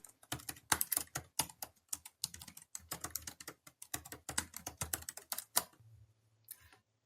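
Fingers type on a computer keyboard in rapid, uneven bursts of clicking keystrokes, close and fairly quiet, before the tapping trails off near the end.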